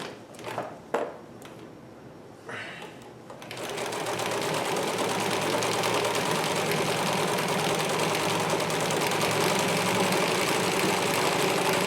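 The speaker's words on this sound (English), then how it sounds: "You don't necessarily want to go full tilt when you're sewing denim." A vintage Singer 319k sewing machine sews denim at a moderate pace, a few short starts and stops giving way to a long, steady whirring run, near and fairly loud.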